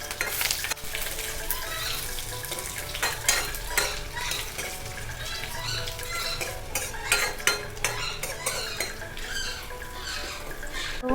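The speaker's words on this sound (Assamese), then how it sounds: "তেলখিনি আমাৰ গৰম হৈ গ'ল আৰু ইয়াত অকণমান পাঁচফোৰণ দি দিছোঁ" Panch phoron spices and a bay leaf fry in hot oil for an Assamese dish, a busy crackling sizzle mixed with repeated scraping and clinking of a spoon against the pan.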